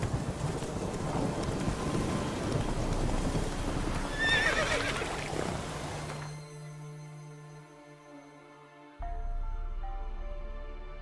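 Horse in The Witcher 3 video game whinnying amid steady hoofbeats under a rain and thunder ambience, then the gallop drops away to quieter game ambience with a low drone.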